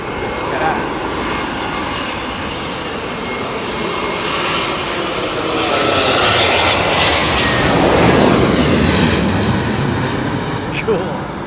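A Qatar Airways jet at London Heathrow roars loudly and close during stormy weather, its engine noise swelling toward the middle and then easing, with a voice speaking over it.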